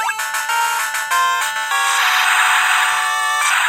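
Loud, bright chiptune notes from a Game Boy with an improved speaker play in quick melodic steps that build into a denser, sustained passage.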